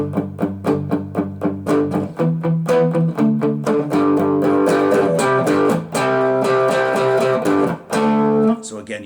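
An electric guitar with mild overdrive plays choppy chords of a song, rhythmic picked strums giving way to sustained, slightly gritty chords.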